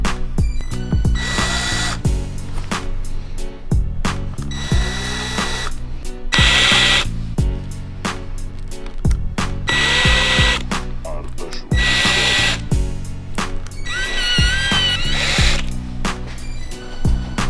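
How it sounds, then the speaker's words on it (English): A power drill running at slow speed with even pressure while engine-turning a custom lowrider-inspired art piece, giving a close, steady whir in repeated bursts with short pauses and clicks between passes, with music playing throughout. "really slow speed on the drill and even pressure"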